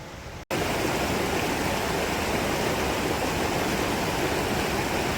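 Palisade Creek rushes in a steady, loud, dense wash of flowing water. It cuts in after a brief quieter moment and then runs on unbroken, with no voices.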